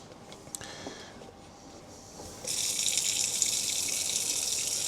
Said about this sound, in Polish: Tylko odmierzę sobie ilość wody.